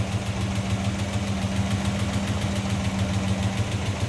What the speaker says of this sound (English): 233 cubic inch V8.